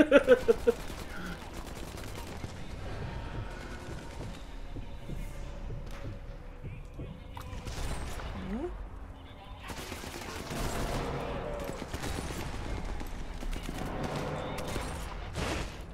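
Gunfire in the World War II sniper game Sniper Elite 4, set in an Italian coastal town, with a few sharp shots in the first second over a low background score and rumbling game ambience.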